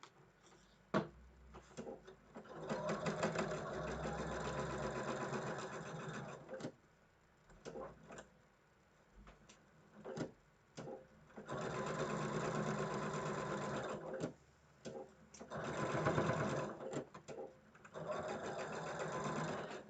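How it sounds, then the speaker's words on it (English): A sewing machine stitches a seam joining quilt block rows, running in several whirring bursts separated by short pauses, with a voice heard during some gaps. "Okay, so now I'm going to sew my seam together."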